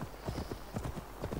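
Horse hooves clip-clop in a steady walking rhythm in Assassin's Creed Valhalla, a soft repeated patter of game footsteps, close and fairly quiet.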